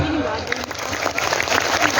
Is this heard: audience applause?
yes